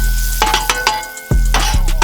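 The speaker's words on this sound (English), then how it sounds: "that sizzle" Thin-sliced ribeye sizzles loudly in a hot pan while being fried for a cheesesteak, the steady hiss broken by several scraping stirs of a spatula, with no one talking.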